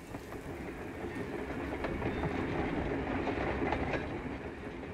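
A train runs steadily on its rails with a continuous low rumble and faint rhythmic clacking from the wheels. It is heard from inside, even and unbroken, with no voices.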